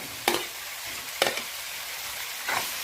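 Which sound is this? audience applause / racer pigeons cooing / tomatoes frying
tomatoes frying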